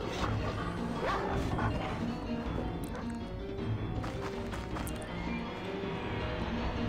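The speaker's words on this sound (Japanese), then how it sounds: "ワンちゃんみたいなモンスターですね。" A dog-like monster in the video game Tower of Fantasy gives barks over dense, loud game noise with music and clattering effects running throughout.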